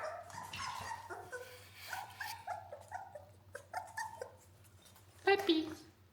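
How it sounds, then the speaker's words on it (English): Small puppies whimper and yip close by, with high, wavering cries in short bursts and a sharper yelp near the end, over a low steady hum. "And check out these cute little puppies."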